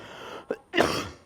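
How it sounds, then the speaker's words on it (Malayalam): A person coughs twice at close range, a short sharp burst followed a moment later by a longer, rougher one, with no talking. "ചുമക്കുന്ന്"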